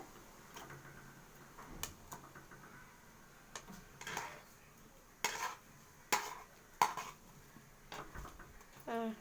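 Milk kollukattai dumplings are stirred in a pan. Quiet, sparse scrapes and clinks of a spoon against the metal come at irregular intervals over a low background hum.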